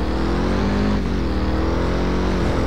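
Dodge Challenger roaring in Driver: San Francisco, a loud, steady low engine drone held throughout with slight shifts in pitch, no voices.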